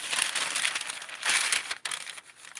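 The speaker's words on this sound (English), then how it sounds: "and then cut the fabric" Scissors cutting through fabric while restyling a doll's dress, a steady dry crinkling and rustling that runs close up for a few seconds with a brief dip near the end.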